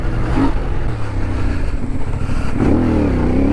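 A CF Moto 450 motorcycle with reworked suspension accelerates, its engine drone loud and continuous with rising pitch under wind rush, recorded close from the rider's position.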